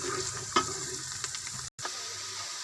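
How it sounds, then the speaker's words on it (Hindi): Onions frying in oil for a fried mongre and potato sabzi, a steady close sizzle with a few stirring scrapes and a brief dropout near the end. "ये हमारे प्याज ब्राउन हो रही है, इसको हम लाइट ब्राउन करेंगे।"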